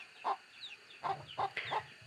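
A wild junglefowl gives a few soft, scattered clucks and short calls in quiet outdoor surroundings, moderately close, with gaps of near silence between them.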